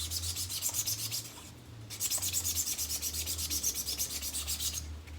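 Rhythmic back-and-forth sanding of a 3D printed Rebel pilot flare with visible print ridges, a quiet close scratchy rasp repeating in quick strokes with a short pause midway.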